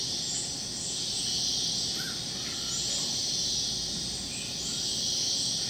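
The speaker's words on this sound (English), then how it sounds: "Birds are singing, cicadas are pulsing." Midday rainforest ambience with a dense, steady wash of pulsing cicadas and insects filling the air, and faint bird calls scattered through it.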